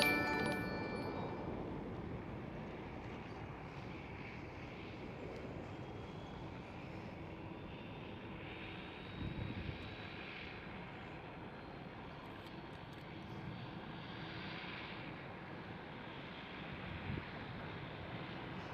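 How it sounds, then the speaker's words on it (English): A distant Emirates Airbus A380 at Amsterdam Schiphol produces a faint, low rumbling engine drone with a thin rising whine, quiet and steady against background wind noise. "There is the Emirates A380."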